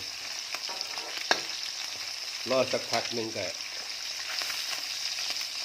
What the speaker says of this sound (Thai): วิธีทอดปลา บ่ให้ติดกระทะนะครับ